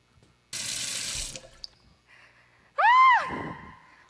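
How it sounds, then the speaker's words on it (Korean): A shower comes on with a loud hiss of running water for under a second, then stops. A short, sharp vocal cry of surprise follows. "샤워기 켜져서 나 옷 다 젖었어"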